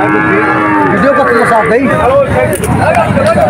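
Several calves moo repeatedly in loud, wavering bellows, overlapping one another amid a noisy cattle market crowd with people talking in the background.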